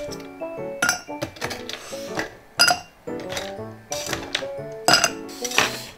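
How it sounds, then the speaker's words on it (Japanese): Ice cubes dropped into an empty glass before pouring a canned Ice Draft Nama beer, giving a close series of bright, irregular clinks and knocks as the cubes strike the glass and each other. "じゃあちょっと氷を入れてみましょう"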